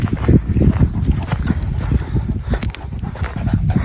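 A dog named Karabaş makes repeated rough, low bursts close by, mixed with steady scuffling like paws moving over the ground, continuing without pause.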